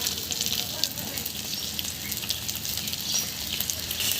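Chillies, onions and ground spices fry in hot oil in a pan while cooking fish curry, a loud, steady sizzle and crackle running throughout, with occasional scraping as the mixture is stirred.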